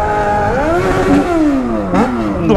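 Yamaha XJ6 motorcycle engine revving hard with the throttle sticking open, a loud, close, sustained roar that climbs and dips in pitch with repeated surges over a few seconds.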